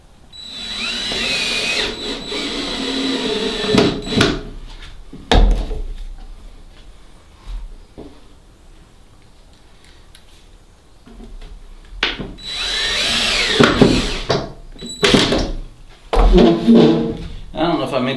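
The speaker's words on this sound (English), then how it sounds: "this is just a drill, and it does not have anything special. You know, I just have a Phillips head bit in it" A cordless drill fitted with a Phillips head bit drives screws into the wooden back panel of a goat disbudding box. It makes several loud whirring bursts separated by pauses, with someone talking between and over them.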